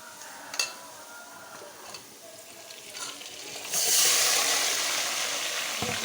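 A few clinks of a utensil against a pan, then a sudden loud sizzle as marinated chicken hits frying onions in hot oil and keeps frying steadily.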